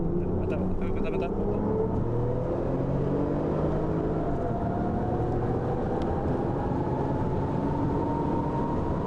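Porsche 997 Turbo cars, a coupe and a cabriolet, race each other. A continuous loud engine roar rises steadily in pitch under acceleration, heard from inside the car with voices talking over it.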